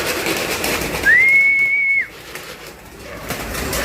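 A single clear bird call rises and holds steady for about a second from pigeons flying around outside a loft, standing out plainly over a soft background hiss.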